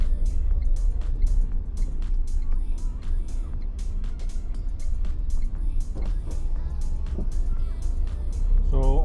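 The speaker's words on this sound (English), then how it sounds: "all the windows are open in the car, so it will also test the wind reduction, the wind noise reduction capability" Wind buffets an action camera inside a moving car with all the windows open, a steady low roar and rumble of air and road noise with scattered ticks and knocks throughout.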